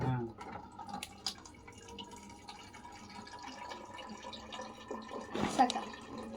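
Water pours and drips in small splashes over a busy domestic background, with a louder burst of splashing near the end.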